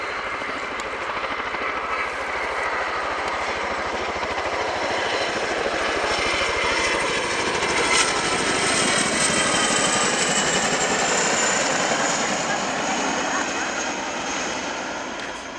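Sukhoi Su-27 P1M fighter jet of the Ukrainian Air Force flying a display at the RIAT 2018 airshow at Fairford, its engines producing a loud, sustained roar that swells in the middle and stays broad and steady throughout.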